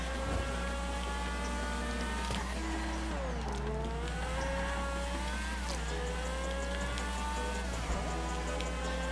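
Indy-style race car engine in GTA revs steadily with whining tones that rise and fall through gear changes and corners, holding a constant close drone.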